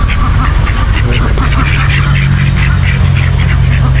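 Repeated nasal calls of a female bird sound close and loud over a constant low engine-like drone, coming in quick irregular bursts.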